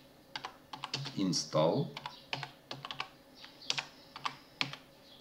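Computer keyboard keys clatter in quick irregular bursts as a terminal command is typed on a Linux Ubuntu machine, close and crisp, with someone speaking briefly over the clicks.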